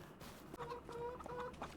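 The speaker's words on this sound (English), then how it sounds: "Let's run over to our chickens," Chickens in the video game Farming Simulator 25 cluck in a short run of soft, repeated calls over a muffled farm ambience, close by and fairly quiet.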